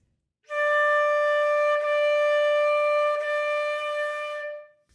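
A flute holds one pitch steadily, broken into three long repeated notes by brief, soft tongue separations, clear and close.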